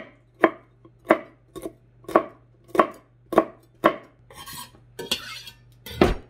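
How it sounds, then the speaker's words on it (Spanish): A knife chopping a fresh jalapeño chili on a board, about eight sharp, evenly spaced chops close by, followed by a few scraping and clattering knocks, with no talk. "Ahora vamos a trozar un chile jalapeño"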